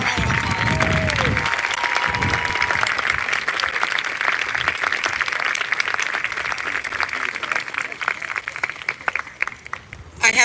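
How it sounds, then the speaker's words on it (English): Loud, sustained audience applause with some cheering at a middle school graduation ceremony, following a student performance, continuing steadily over ten seconds before a brief voice near the end. "Please give them a round of applause."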